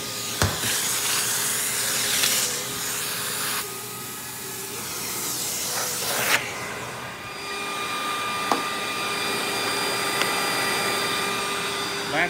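Rainbow E2 single-speed canister vacuum running with its suction relief valve in use, a loud steady motor whoosh and hiss that shifts in pitch and airflow as suction changes, with a few sharp clicks.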